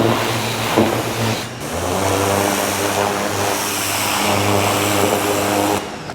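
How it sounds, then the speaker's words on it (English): Pressure washer cleaning car parts before painting, running as a steady, loud, continuous engine-driven drone with a hissing spray, holding an even level for several seconds before cutting off at the end. "use a pressure washer to clean my parts before paint"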